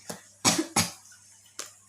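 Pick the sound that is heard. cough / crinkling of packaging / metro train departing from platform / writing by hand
cough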